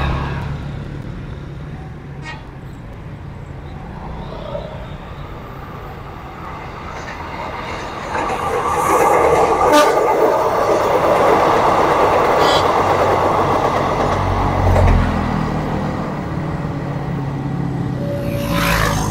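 Trains rumble past at the Ciroyom flyover as the Argo Parahyangan and a feeder train cross each other, a loud, sustained rolling roar with clattering wheels that swells midway and lingers.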